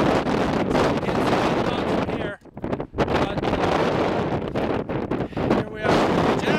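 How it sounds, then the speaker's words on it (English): Strong wind roars and buffets the microphone in heavy gusts on a volcano summit beside a steaming crater, easing briefly before blasting again. A voice may be buried under the noise. "It's also very windy, as you can tell."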